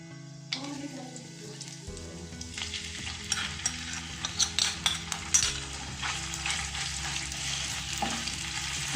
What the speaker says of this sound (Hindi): अदरक लहसुन का पेस्ट शामिल करके इसको हल्का सा भून लें।